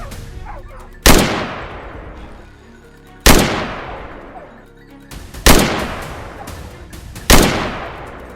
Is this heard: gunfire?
yes